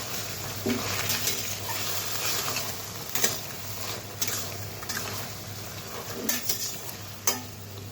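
Masala paste being stirred into taro (kochu) frying in a pan, a soft steady sizzle running throughout, broken by occasional sharp scrapes and clinks of the spoon against the pan, with no one talking.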